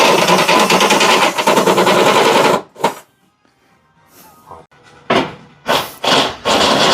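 A power drill bores through metal while fitting a hitch on a 2024 Subaru Solterra, loud continuous grinding for a few seconds, then quiet gaps broken by several short bursts of drilling.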